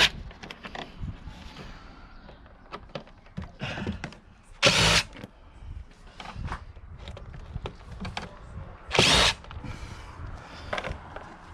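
A small impact driver backs out T25 airbox screws on a Ford B-Max, with two loud, close bursts of a couple of seconds each, separated by handling clatter and clicks of parts being moved.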